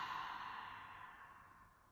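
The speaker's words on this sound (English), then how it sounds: "Breathing out." A deep, slow exhale during a guided meditation, soft and close, tapering off gradually over a couple of seconds with no other sound.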